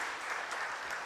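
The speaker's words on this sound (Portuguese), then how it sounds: "Vamos dar uma salva de palmas para nossas crianças lindas?" A church congregation claps for the children at a Sunday evening service, a brief, steady burst of many hands applauding together at moderate distance.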